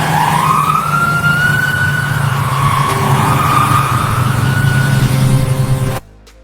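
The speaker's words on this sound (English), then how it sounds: "Sirens cut through the noise as the doors closed." A wailing emergency siren sweeps up and down over a rumbling engine, loud and close, then cuts off abruptly near the end.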